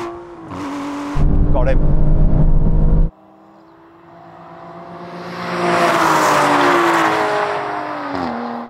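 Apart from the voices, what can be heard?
Aston Martin engine revving in drag race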